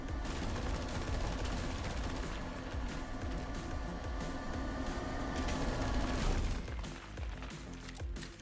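Sustained rapid gunfire from a slow-to-warm-up gun in the fast-moving video game Overdrive Escape, a loud continuous roar of shots that cuts off abruptly near the end.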